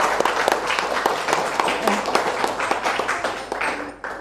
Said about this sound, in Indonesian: Beri aplaus untuk anak-anak.